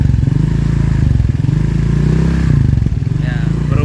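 Motorcycle engine fitted with an aftermarket exhaust idles with a steady low throbbing pulse, close and loud, a brief clatter near the end, with voices talking over it.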